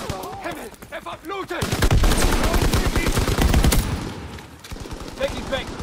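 Rapid gunfire from Call of Duty WW2, several dense bursts of automatic and rifle shots that are loud and close, with some talk before and after the shooting.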